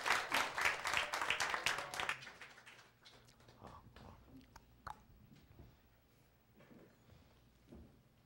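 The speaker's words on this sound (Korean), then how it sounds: "우리 박사님을 박수로 맞아주시기 바랍니다." Applause from an audience welcoming a lecturer at a Korean church talk, loud dense clapping for about two seconds, then fading into scattered claps and quiet room noise.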